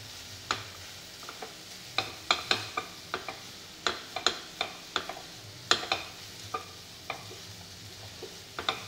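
A spoon stirs mango and jaggery sheera in a pan, giving soft scrapes and irregular sharp taps against the metal, close and fairly quiet.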